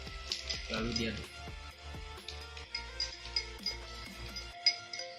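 Spoon stirring salt into water in a drinking glass, a run of light clinks and scraping taps that come and go at close range over a low background hum.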